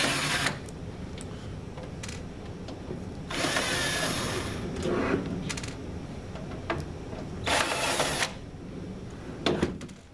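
Power drill unscrewing fasteners from the control panel of an ES3000 unit: a continuous low motor whir with several brief higher whines and grinding bursts as screws spin out, close and moderately quiet, with no talk.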